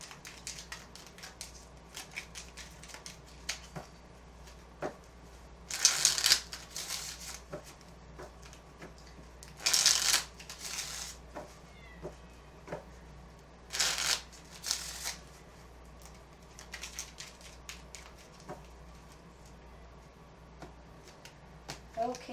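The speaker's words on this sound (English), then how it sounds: "we will start shuffling" Tarot cards are shuffled in three separate riffling bursts, close and crisp, with quiet handling sounds and faint background noise in between.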